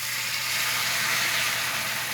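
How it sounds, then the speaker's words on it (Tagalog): Onion and garlic sautéing in a hot pan, a steady broadband sizzle that holds evenly and close throughout, with no voices over it. "nagigisa na ako ng sibuyas at bawang"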